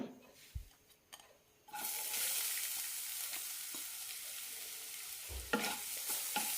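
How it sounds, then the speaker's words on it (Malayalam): Grated coconut roasting in a pan with a teaspoon of coconut oil: a few faint knocks, then a sudden loud, steady sizzle with a couple of stirring scrapes near the end. "തേങ്ങ കൂടി വറുത്തെടുക്കാം"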